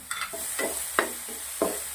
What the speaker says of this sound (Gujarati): બે મિનિટ સુધી ડુંગળીને આપણે સોતે કરશું.